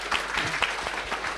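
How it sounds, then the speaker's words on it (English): Audience applause in a conference hall at a developer community event, a steady wash of clapping from many hands with no talk over it. "please give yourself a huge round of applause for that"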